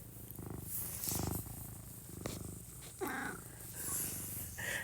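Low, rumbling cat purring rolls along steadily with a few breathy pauses, close by, along with some soft rustling and light clicks.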